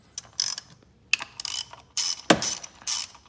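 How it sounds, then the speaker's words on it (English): A socket ratchet with an 8mm socket and swivel loosens coil pack bolts on a Gen2 2017-2018 Ford F150 Raptor, giving about five close, crisp bursts of rapid clicking separated by short pauses. "You need an 8mm socket to remove the coil"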